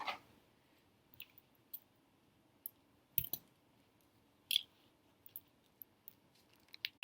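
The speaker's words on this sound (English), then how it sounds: "I need to cut off some of these beads." Small scissors snip beads off a bracelet string, producing sparse, faint clicks and snips spread irregularly over several seconds in a quiet room.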